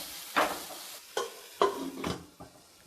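An egg, potato and tomato mixture sizzling in a pan while being stirred, with a steady frying hiss under several scraping strokes of a spatula, close and clear.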